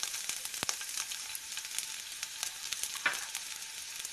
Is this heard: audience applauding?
no